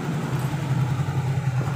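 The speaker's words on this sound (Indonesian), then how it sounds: "suara mesin halus" A Yamaha Mio scooter engine idles smoothly and steadily after an oil change, a close, even low hum with no revving or sputter.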